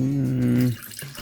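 Canned tomato sauce and water being poured together in equal portions, a loud gurgling glug that stops abruptly, followed by faint thuds.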